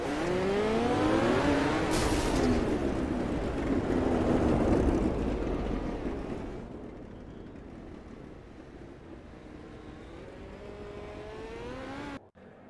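Midget race cars run a heat race at the Chili Bowl indoor dirt track, with a loud, steady roar of several engines that rises, then fades as the pack moves off, before a final burst of noise right at the end.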